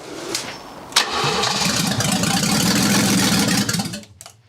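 An old BMW engine, abandoned in a barn for 30 years, cranks briefly and catches, then runs loudly and roughly for a few seconds before shutting off abruptly.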